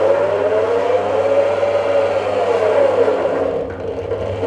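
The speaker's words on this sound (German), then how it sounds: "Schleuder ist eine 4-Waben-Schleuder, wo dann die Rähmchen einzeln reinkommen. Ist mit Elektrobetrieb." Electric four-frame honey extractor spinning, a steady motorized whir with a rising and falling tone that hums loud and close for several seconds, then eases slightly near the end.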